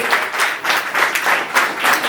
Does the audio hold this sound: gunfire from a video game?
no